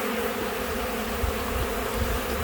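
Hundreds of honeybees crawl over a broken hive frame during a late-March nectar dearth, their dense buzzing a steady, close drone that runs unbroken throughout with no voices.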